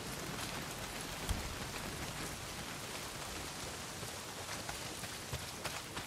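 Steady rain in the video game Days Gone, a dense even patter across the whole stretch with occasional heavier drops, constant and close with no voices.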